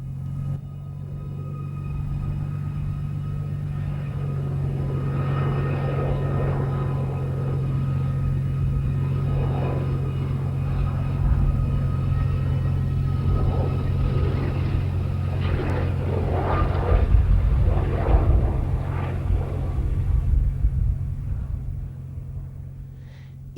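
A WWII warbird at the Mildenhall Air Fete air show, a low droning engine rumble that slowly builds and swells louder toward the end, then fades slightly.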